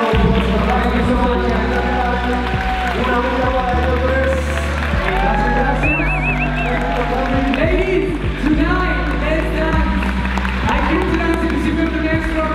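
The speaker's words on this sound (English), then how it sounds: "Let's give them a round of applause for" A crowd applauds and cheers for Hall of Fame salsa honorees at a Los Angeles salsa event, with sustained clapping and whoops over steady music throughout.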